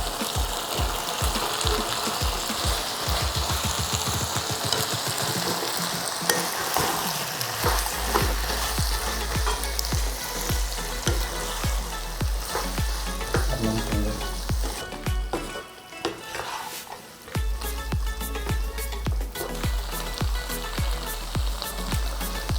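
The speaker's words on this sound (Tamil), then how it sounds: "கடைசியாக பொரிச்சு வச்சுருக்க சிக்கனை நம்ம இதில் ஆட் பண்ணிக்கலாம்." Fried chicken sizzles loudly in dragon chicken sauce with capsicum in a pan over high flame. Steady close frying hiss plays throughout, broken by repeated scraping stirs.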